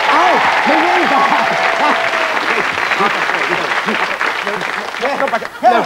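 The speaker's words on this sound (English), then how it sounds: "Big round of applause." An audience applauds the winner of the Golden Nose Award, a sustained wash of clapping running underneath excited talking and exclamations from people nearby.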